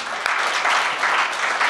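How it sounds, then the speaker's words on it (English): A warm round of applause from the audience at a career expo, steady, dense clapping that rises and falls in gentle pulses, with no talk over it. "Let's give Tulani a warm round of applause."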